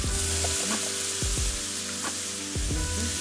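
Nepali-style chicken curry sizzles in a pan while being stirred, dense frying hiss broken by a few thudding scrapes of the spoon at regular intervals, close and steady with no talking.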